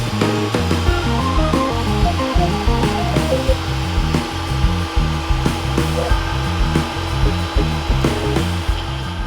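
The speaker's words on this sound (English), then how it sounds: "So this is the planer first." A Grizzly G0940 benchtop thickness planer runs with a steady, loud mechanical whine and motor hum, and rhythmic knocks and rattles sound throughout.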